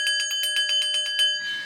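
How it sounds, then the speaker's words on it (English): A metallic bell rung in about ten rapid, even strikes, each leaving a bright sustained ring, followed by a short rattling fade. "Ring that bell"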